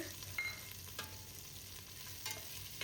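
Onion fries in a pan with cinnamon and cloves for naati chicken biryani, giving a steady soft sizzle with a few clear scrapes of stirring. It is close and fairly quiet, with no voices.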